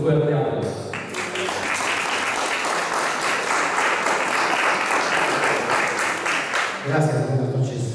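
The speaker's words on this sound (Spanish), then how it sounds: "a quien recibimos también con un fuerte aplauso" An audience at a homage event in a historic mansion breaks into loud, sustained applause lasting several seconds, with voices briefly audible at the start and end.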